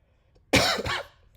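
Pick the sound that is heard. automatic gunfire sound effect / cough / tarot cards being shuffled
cough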